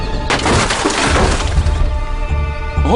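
A ballista projectile, fired from Alexander the Great-era siege equipment at increased tension, smashes into a wall with a loud crash and breaking debris, followed by rumbling crumble and a rising tail at the end.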